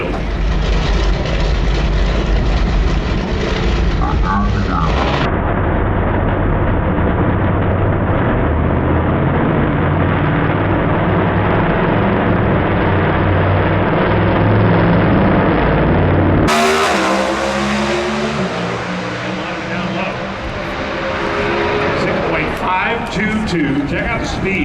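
Pro Stock drag racing car making a pass at the NHRA Sonoma Nationals, a sustained loud roaring engine that shifts pitch partway through, with a commentator talking over it throughout.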